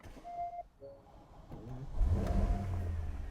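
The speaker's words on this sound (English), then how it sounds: "And then I went to start the car," A Porsche Panamera engine cranks and catches, then settles into a loud, steady idle with a low rumble that builds and holds in the second half.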